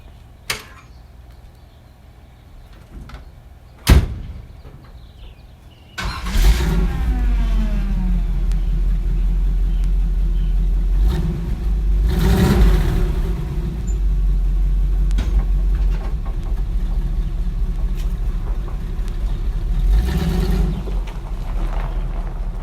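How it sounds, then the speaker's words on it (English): A 1955 Chevy truck engine with a new custom exhaust cranks with a sharp catch, then roars to life and idles with a deep, loud exhaust rumble, revving up a few times. "little startup here after the exhaust."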